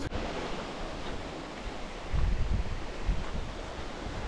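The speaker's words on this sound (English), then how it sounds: "Beautiful waterfall." Rushing water from a waterfall beside a hiking trail in the Azores forms a steady, broadband roar that swells slightly partway through, with some wind buffeting the microphone and no voices.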